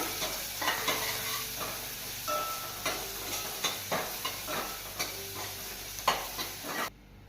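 Finely chopped onion and capsicum stirred in a hot pan with asafoetida, a low sizzle under a regular run of spatula scrapes and taps, close and fairly quiet, cutting off near the end with no voices.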